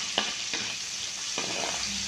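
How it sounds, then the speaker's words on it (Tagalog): Hot cooking oil sizzling in a pan while frying for kaldereta, a steady close hiss with a few faint scrapes of stirring and no talk. "Mainit na yung mantika natin."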